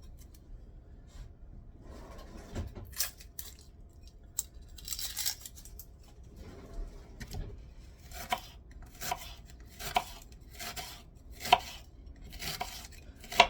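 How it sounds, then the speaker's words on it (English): A knife cuts an onion in half on a board, a few muffled cuts followed by a run of sharper, regular chops close by, with faint kitchen rustling and no speech. "I'll divide this one onion into 2."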